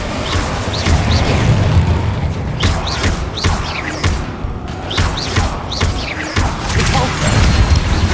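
Spell blasts from the fire-casting Incendio in Hogwarts Legacy during a fight with Inferi, a dense run of whooshing bursts and booming impacts over loud battle noise.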